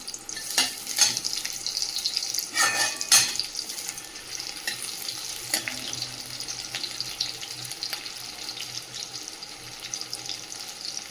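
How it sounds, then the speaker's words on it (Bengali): Onions frying in a hot kadai for a crab and bottle-gourd-stem curry, a steady close sizzle with bright crackle, a few louder spatters near the start, no talk. "কড়াই পেঁয়াজ দিয়ে দেবো।"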